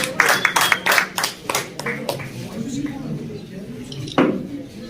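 Brief burst of clapping from an audience for certificate recipients at a pigeon tournament in Kashmir, sharp and close at first, fading within two seconds, then a short clap later under a talking voice.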